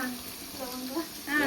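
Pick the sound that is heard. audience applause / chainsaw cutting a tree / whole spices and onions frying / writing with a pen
whole spices and onions frying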